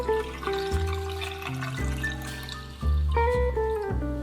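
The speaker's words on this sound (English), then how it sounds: "Add some water." Water poured into a pot of tomato beef stew with green onions and ginger, a steady trickling splash whose pitch shifts as the pot fills, heard over background music.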